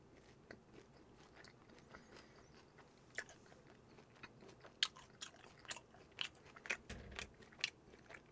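Crispy glutinous-rice sweet and sour pork is bitten and chewed close up, with quiet, sharp crunches coming in sparse, irregular bursts that grow denser toward the end.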